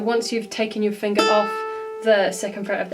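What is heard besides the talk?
No distinct noise like a dog, phone or traffic.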